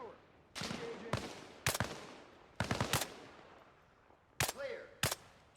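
Bursts of video game gunfire crack out in several separate volleys, some rapid and machine-gun-like, loud and close, with brief gaps of quieter background between them.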